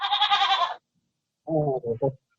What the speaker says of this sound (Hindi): बकरी बोल रही है, बताओ।